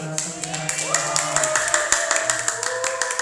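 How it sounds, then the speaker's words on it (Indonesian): Seminar attendees clap at a business seminar on the cashflow quadrant, scattered hand claps with distinct sharp strikes over sustained tones, fairly close and moderately loud. "Boleh kasih tepuk tangannya dulu dong"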